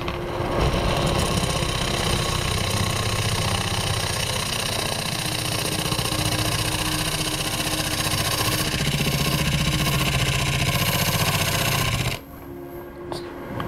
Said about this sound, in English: Now this is a shear scraping. It's what's commonly known as shear scraping.